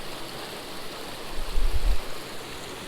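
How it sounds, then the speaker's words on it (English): A tiny mountain creek near a mountain lake rushes steadily in a constant broadband wash, with a brief low rumble partway through. "it's a tiny little creek"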